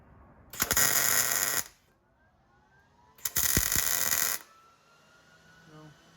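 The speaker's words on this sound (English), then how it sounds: "hold it square, and tack weld" Tack welds on traction bars for a 12V Cummins truck, two bursts of about a second each with a pause between them, close and loud, a faint low hum behind.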